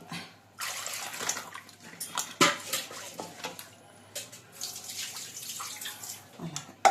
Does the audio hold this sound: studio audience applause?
no